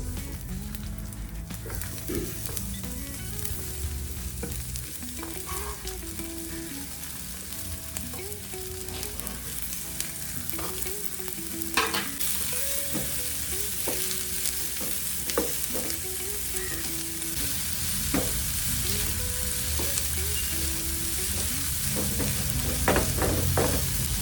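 Sliced onions fry in hot oil for a chicken curry, a steady sizzle broken by repeated scraping and clinking as a spoon stirs them around the pan, close and without talk.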